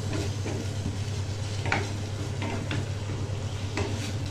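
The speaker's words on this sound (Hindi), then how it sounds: "भलो भाबरे मिक्स करनबा मसला को टिके।" Turmeric powder, cumin powder and Kashmiri chili masala stirred in a pan, with a steady low hum under soft scraping strokes and a few sharper clinks, continuous and close.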